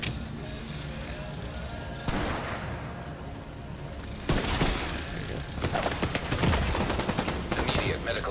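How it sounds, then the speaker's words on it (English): Sustained automatic gunfire in The Division 2 as cover fire, dense rapid bursts that grow louder and heavier partway through, with a loud sharp burst near the middle, close and continuous with no clear pauses. "I'll give you some cover fire"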